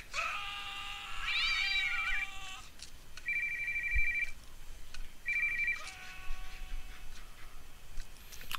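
Cats meow loudly and repeatedly in the video game Postal 2, long drawn-out yowls mixed with steady ringing electronic tones over a constant background hum.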